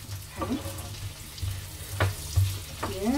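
Bell pepper frying in a pan for a quick dinner, with a steady low sizzle and a few brief stirring scrapes close by, no talk.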